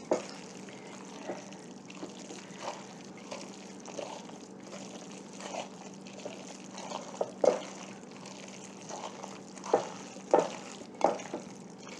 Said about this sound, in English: we're going to mix this just until things are incorporated